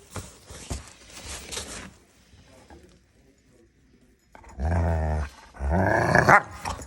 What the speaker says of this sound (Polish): Ona też na mnie tylko i wyłącznie warczy po to, żeby się pobawić.